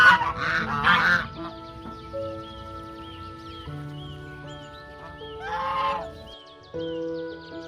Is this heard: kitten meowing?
no